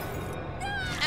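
A cat meows inside the video game Bloodstained, a short rising mew heard close over the game's background sounds, with a speaking voice briefly mixed in.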